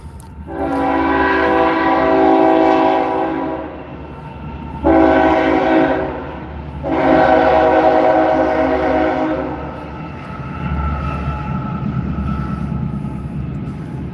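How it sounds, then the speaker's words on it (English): An intermodal freight train rolls past nearby in Lind, Washington, its horn sounding in long loud blasts over the steady rumble and clatter of the cars. "Good old Burlington going to the coast. Intermodal freight."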